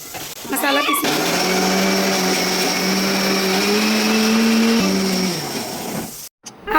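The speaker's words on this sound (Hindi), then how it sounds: "अब ये सारे मसाले ना मिक्सर की जार में डाल के जो है वो पीस लेंगे" Kitchen mixer grinder jar grinding spices for a mutton dish, a loud whirring motor that starts after a second, runs steadily for about five seconds with a shifting pitch, then cuts off abruptly.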